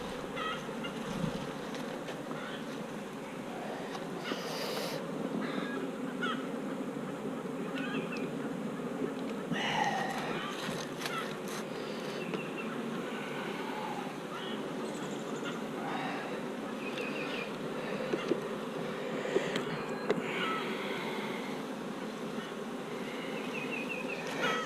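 Honey bees buzz steadily throughout a beehive inspection with brood and honey frames exposed, a dense, continuous close swarm drone with occasional louder passes of individual bees near the ear.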